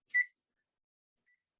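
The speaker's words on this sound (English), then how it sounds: "And I'm going to set my timer for 10 minutes right here." A kitchen timer set for an oven gives one short, clear electronic beep, followed by a tiny faint blip about a second later in otherwise silent surroundings.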